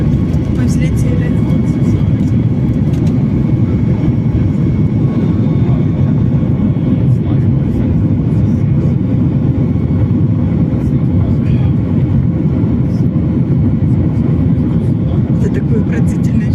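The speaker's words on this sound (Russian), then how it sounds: "Все, мы отрываемся. Вау! Мы взлетели." A passenger airplane takes off from Vancouver, its engines giving a loud, steady low roar and rumble heard from inside the cabin throughout, with people talking over it.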